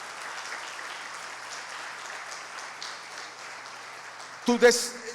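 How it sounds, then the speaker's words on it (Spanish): A large church congregation claps steadily in a broad, even wash of applause, with a sharp louder burst right at the end. "Denle un aplauso fuerte."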